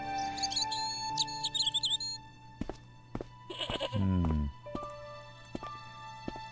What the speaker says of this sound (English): Poor little goat. Old goat.